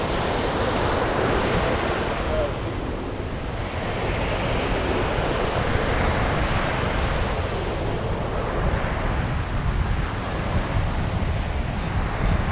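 Sea waves break steadily along a North East Scotland shoreline during flounder fishing, a loud continuous surf wash with wind buffeting the microphone throughout and no voices.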